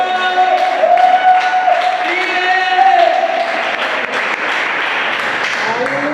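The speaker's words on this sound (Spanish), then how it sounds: "Un aplauso para Cristo." A church congregation applauds during a sermon, with dense sustained clapping blended with cheering voices and a singing or shouting tone over it, loud and continuous throughout.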